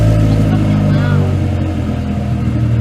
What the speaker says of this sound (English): this will be without the silencer. See how this sounds. Rev it.